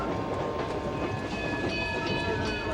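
A passenger train runs along the track with a steady, loud rolling rumble and rhythmic wheel clatter, plus faint squealing metallic tones above, heard close by with no voices.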